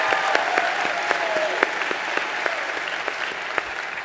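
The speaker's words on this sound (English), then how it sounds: "let's give a round of applause for that." An audience at an Empower Network business event applauds, dense and steady clapping filling the whole stretch with occasional sharper individual claps.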